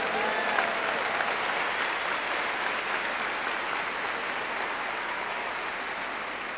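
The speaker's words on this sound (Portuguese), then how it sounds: "E aplauda essa verdade e essa certeza." Sustained applause from a church congregation during a Pentecost Mass, a dense, steady clapping that fills the space evenly for several seconds with no one speaking over it.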